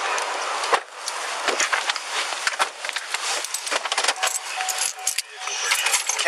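Keys jangling during a police arrest in Seattle, repeated bright metallic clinks and rattles scattered throughout, close and fairly loud over background noise and a faint voice.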